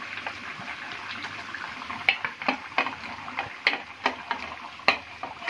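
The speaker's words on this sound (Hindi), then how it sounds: "अभी हम इसमें ये जो चिकन था हमारा रोस्ट करके रखे थे ये भी डाल देंगे" Roasted chicken stirred into thick, simmering gravy in a pot for Chicken Afghani: soft bubbling and sizzle under a series of sharp clinks and scrapes of a spoon against the pot, close up, no talk.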